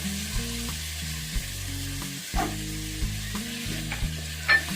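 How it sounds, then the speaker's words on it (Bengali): Spiced raw mango pickle, seasoned with mustard, five-spice and dried chillies, is stirred in a pan, giving a soft continuous sizzle with periodic scraping strokes and a clink near the end, with no voices. "এবার আবার ভালো করে নেড়ে চেড়ে নেব।"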